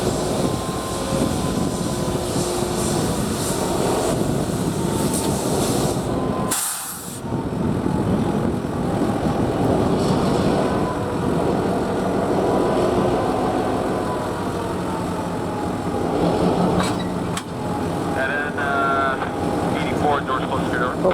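VIA 84 passenger train locomotive idling before departure in January, a steady loud diesel engine drone with rumble and a brief air release, continuous throughout.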